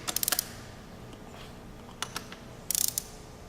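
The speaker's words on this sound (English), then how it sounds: "Screwing out the 4 bolts. Taking them completely out" Quiet clusters of sharp metallic clicks and ratcheting taps, with short pauses between them, as a 5/16 Allen wrench breaks loose and backs out the four bolts on a crimper's top plate.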